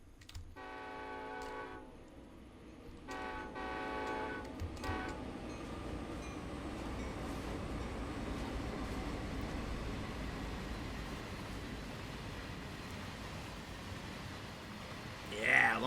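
Long Union Pacific container freight train in Train Sim World 4 on Sherman Hill: a loud multi-tone horn sounds in two blasts early on, then a steady heavy rumble and wheel roar continue as the cars roll past close by.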